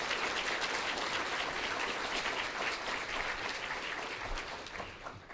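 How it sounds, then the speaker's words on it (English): Audience applause at a Public Service Recognition Week awards ceremony, a dense, even patter of many hands clapping at moderate distance, fading slightly toward the end. "Please give all of them a round of applause."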